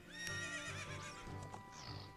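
Epona the horse in the video game Ocarina of Time gives a clear, high whinny over a soft rhythmic clip-clop of hooves, quiet and alone.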